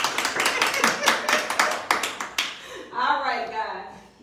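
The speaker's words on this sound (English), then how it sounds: "Okay, hand clap right there." An audience at a commercial financing workshop gives a brief round of hand claps, sharp and fairly sparse, ending after a couple of seconds as a voice begins speaking.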